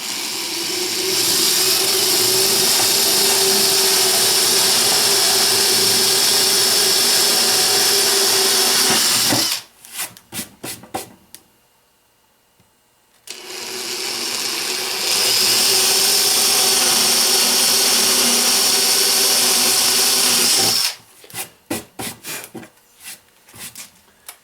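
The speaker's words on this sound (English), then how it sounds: "I'm going to go ahead and drill my 2 holes" A power drill bores two holes through an ammo box in two sustained bursts of loud, steady whirring, each ending in short stuttering trigger pulses, with a quiet pause between them.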